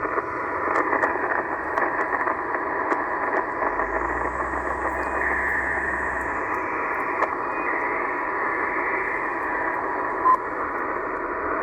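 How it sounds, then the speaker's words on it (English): Steady shortwave radio hiss and static with a faint HFDL (High Frequency Data Link) digital data burst woven through, between 10000 and 11000 kHz, continuous and fairly loud, no voices. "what you're hearing out there is a signal known as HFDL, which is High Frequency Data Link"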